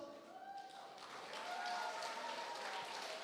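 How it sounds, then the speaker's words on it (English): Crowd applause for contestants at a cultural day pageant, a soft, steady wash of clapping with voices faintly audible underneath. "let's all give a big round of applause"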